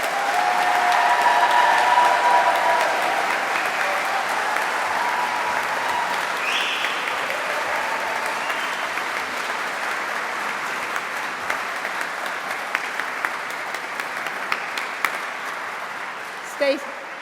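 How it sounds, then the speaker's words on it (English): Sustained, dense applause from a graduation ceremony audience at the University of Greenwich for the new graduates swells loudly at first, then gradually eases while staying steady, with a few sharper claps near the end. "let's give them all a big round of applause."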